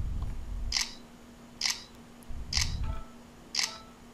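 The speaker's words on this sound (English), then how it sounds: "that proper shutter noise is coming from the Z10, and the other one is coming from the Nexus 4." Camera shutter clicks from a BlackBerry Z10 and a Nexus 4 smartphone sound four times at roughly one-second intervals, crisp and close, each a sharp snap over a low steady hum.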